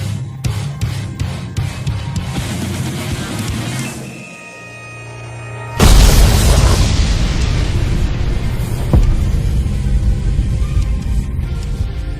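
A delayed red energy technique explodes in a Jujutsu Kaisen anime fight: after a brief lull, a sudden loud blast erupts into a sustained, roaring rumble that lasts to the end.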